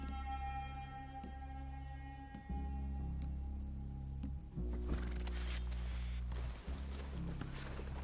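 A horse neighs and whinnies in the Red Dead video game, with hooves clip-clopping nearby over a steady low background hum, the sound growing busier partway through.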